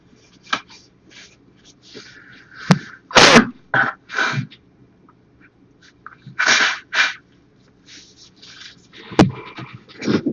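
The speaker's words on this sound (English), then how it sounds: "Excuse me while I clear my throat." A man clears his throat in a few short, rough bursts, with scattered sneeze-like and snorting noises spread over about ten seconds and no speech.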